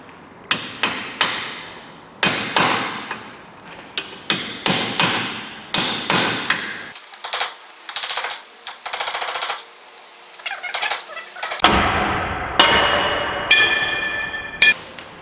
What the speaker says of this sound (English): So now I'll just get a chisel and we'll see if we can't free that off.